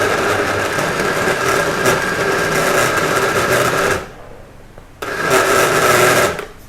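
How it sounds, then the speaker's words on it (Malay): An electric blender grinds green chili paste for green chicken rendang, whirring loudly and continuously up close, then cutting out for about a second before starting up again and running on. "kita perlu blend dia hingga dia halus"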